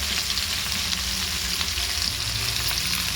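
Onions sizzle loudly in hot oil in a pan with popped mustard seeds and curry leaves, a steady close crackle and hiss with no talking, for a South Indian okra stir-fry.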